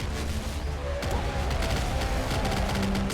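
Rapid bursts of gunfire in the video game YV, dense overlapping shots and booms in quick succession, loud and continuous with no talking.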